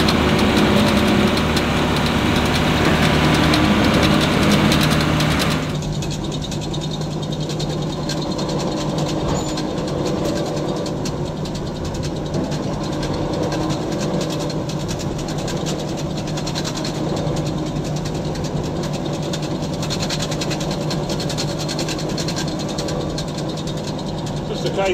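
A baler makes grass silage on a family farm. Its heavy machinery drone runs loud and steady, with a noticeable shift in tone after about five seconds before it settles into a continuous rumble.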